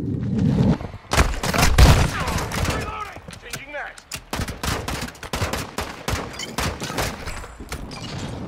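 Rapid gunfire in the first-person shooter Call of Duty: Modern Warfare 2, with a dense spray of sharp shots and heavy thuds, loud and close, while voices speak between the bursts.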